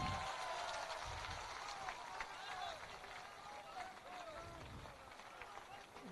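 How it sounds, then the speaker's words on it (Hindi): An audience at a political rally applauds a newly named party president, a steady wash of clapping from a large crowd, moderately distant, with a voice speaking over it. "जोरदार ताली बजाइए।"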